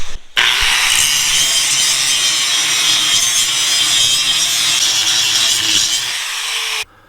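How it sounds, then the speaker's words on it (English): Angle grinder stripping paint from a steel trailer frame ahead of welding, a steady loud abrasive hiss running unbroken for about six seconds with no talk. "we're just going to take the grinder, clean that up, and then we got to clean all the paint off"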